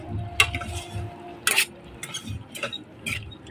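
A spoon stirs beans in a metal cooking pot, giving a series of irregular scraping clinks and clatters at close range over a faint sizzle, with no talking.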